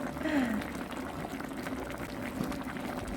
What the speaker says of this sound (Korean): 냄비 뚜껑을 전부 닫지 말고 살짝 걸쳐놓고 은근한 불에 졸여보겠습니다